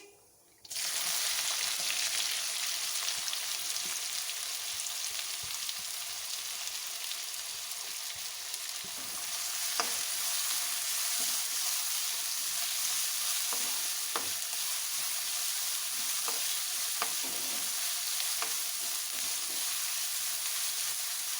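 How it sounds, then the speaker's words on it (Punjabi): Finely chopped onion frying in a pan with cumin seeds, heard as a steady, loud sizzle that runs throughout, with occasional soft clicks and scrapes from stirring. "ਇੱਕ ਪਿਆਜ਼ ਬਿਲਕੁਲ ਬਰੀਕ ਕੱਟ ਕੇ ਪਾ ਦਾਂਗੇ"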